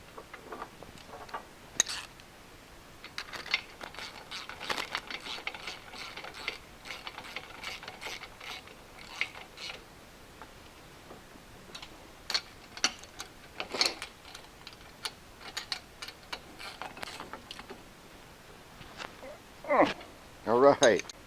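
A ratchet wrench with a 9/16 socket tightens flange nuts on a Limbinator limb saw, making quick light clicking bursts under steady talk, with a louder run of clicks near the end.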